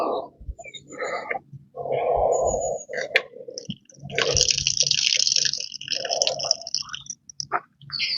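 Water poured onto a SKYSPER Tengger 20 hiking backpack, splashing and running off the fabric in close bursts of pouring, trickling and dripping, broken by brief pauses.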